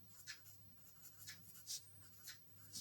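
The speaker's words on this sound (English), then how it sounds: "I'll write the question" A pen writing out a maths problem on paper, quiet close strokes and scratches in short bursts with brief pauses, over a low steady hum, no voices.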